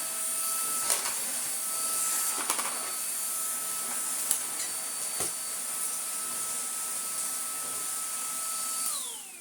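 A Numatic vacuum cleaner runs continuously on carpet with a steady high whine, punctuated by occasional clicks and bumps as it moves across the floor, then winds down.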